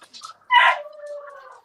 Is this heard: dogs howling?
yes